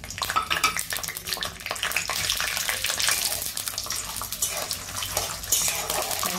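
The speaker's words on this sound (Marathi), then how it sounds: "शेंगदाणे चांगली भाजून घ्यायचे तेलामध्ये" Peanuts roasting in hot oil for Kolhapuri bhadang puffed rice snack, giving a steady, close sizzling hiss with dense crackle that continues unbroken throughout.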